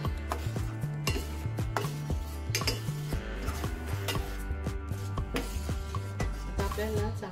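A spoon stirs cashew paste into milk in a metal pot while making kulfi, producing steady, rhythmic clinks and scrapes against the pot, close and fairly loud, with no voices.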